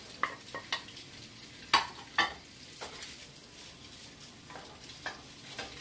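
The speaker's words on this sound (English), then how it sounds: "And we're going to brown the sausage." Sausage browns in olive oil in a pan for a lentil stew with a quiet, steady sizzle, broken by a few sharp scrapes and clicks of stirring.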